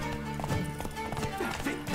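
Horse hooves clip-clop in The Witcher III as an enemy deserter leader mounts and rides, with steady hoof thuds mixed into game music and combat noise; someone speaks now and then.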